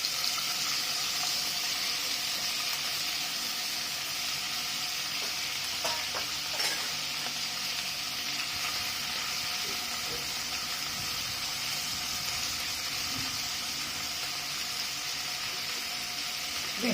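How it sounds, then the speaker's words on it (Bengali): Prawns fry in oil in a pan, a constant close sizzle that runs unbroken for the whole stretch, dotted with occasional light clinks and stirring noises. "চিংড়ি মাছগুলো ভাজা হয়ে গেছে,"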